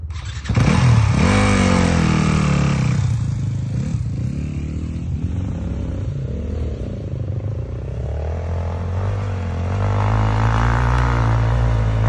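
A vehicle, sounding like a motorcycle, starts off in second gear, its engine revving loudly and close, then straining and settling into a rough, labouring drone as it pulls away.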